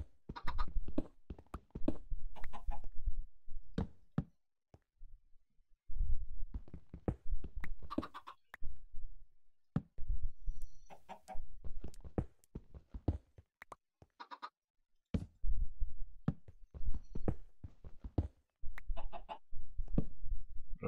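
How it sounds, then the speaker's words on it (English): Chickens cluck in the video game Minecraft, giving bursts of close, loud, choppy clucks that come and go over about twenty seconds, with short gaps of near silence between them. "Alright, so now I gotta lead the chickens into here."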